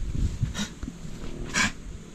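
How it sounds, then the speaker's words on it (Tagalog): A dog coughs in two short harsh bursts about a second apart, with background noise around it and no speech. "Ngayon ko lang narinig na yung aso inuubo pala."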